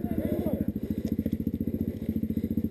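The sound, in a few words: motorcycle engine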